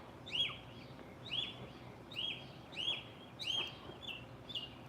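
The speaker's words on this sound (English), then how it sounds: "The birds are already singing for us." Birds calling at sunrise in a tropical backyard, a repeated series of sharp whistled notes roughly once a second over a quiet outdoor background, no voices.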